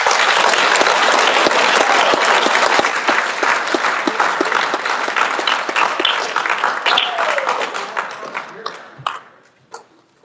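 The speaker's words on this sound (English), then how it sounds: "Let's give them a round of applause." Applause from the audience at a high school awards night, a loud dense clatter of many hands that holds steady for several seconds, then thins into scattered individual claps and fades out.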